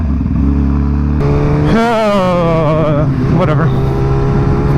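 A motorcycle launches in a drag race, its engine revving hard with a sharp rising pitch that climbs and then falls back, loud and close, with a rider talking over it.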